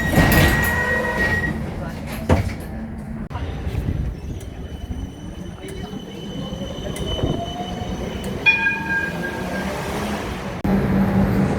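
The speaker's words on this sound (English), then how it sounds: "I'm just waiting on the train." A tram rolls through South Yarra Station with rumbling, rising metallic whines and squealing wheels, loud and close.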